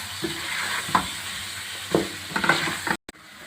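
Mutton with achar masala frying in a pan, a low steady sizzle punctuated by a few scraping stirs of a spoon, ending abruptly.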